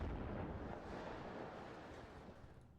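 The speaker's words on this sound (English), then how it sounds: "152 is finally firing again." 152 mm artillery firing in the WARNO strategy game, a broad rumbling boom that starts strong and slowly fades into a low roar, with no voices.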